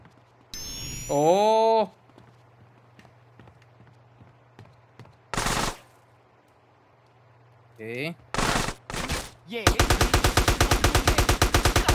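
Gunfire in GTA San Andreas, with separate loud bursts of shots breaking a quiet spell, ending in a long rapid automatic volley, close and harsh, with a short whining engine or siren sweep early on.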